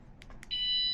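A bicycle alarm chirps with a few short electronic blips and then gives a steady high beep, close and clear, with no talking.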